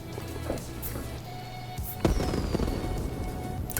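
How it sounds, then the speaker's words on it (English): Fireworks go off in the fantasy game Watcher of Realms: a sharp burst with a rising whistle over a dense crackling wash of game sound. "And the game just did fireworks when I did that."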